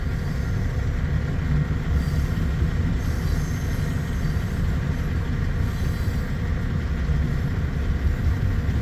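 A freight train rolls past steadily at close range in Missouri Valley, Iowa, with a constant low rumble and rattling wheels, no voices.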